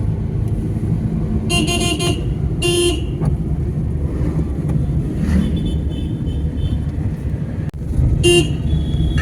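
A car on an open stretch of road near Bandel in Bengal gives a steady low engine and road rumble from inside the cabin, while short bursts of honking from passing vehicles come and go.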